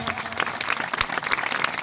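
A church congregation at a pastor's service clapping loudly together, a dense, fast, continuous patter of many hands close by, with crowd murmur beneath.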